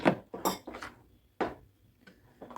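A spoon clinks and scrapes against a bowl while a no-bake dessert mixture is stirred, several sharp knocks spaced irregularly and close by, with quiet pauses between.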